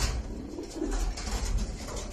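Soft, low cooing of a Teddy breed pigeon, a rolling burbling call repeated close by against faint background noise.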